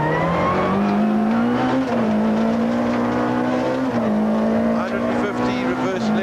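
A 1995 rally car races through a sugarcane stage, heard from inside the car. The engine drones loud and constant, its pitch shifting with gear changes and throttle.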